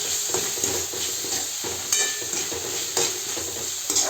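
Chopped tomato stirred into a frying pan while making a whole masoor lentil curry: a continuous bright sizzle with repeated spoon scrapes and taps against the pan, close and alone.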